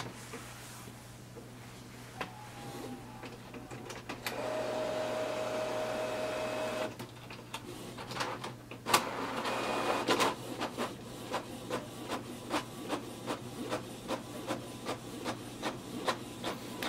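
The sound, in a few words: Canon Pixma TS6350 wireless printer printing a page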